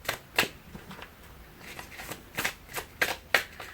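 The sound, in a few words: shuffling oracle cards (L'Oracle des Reflets by Célia Mélispine)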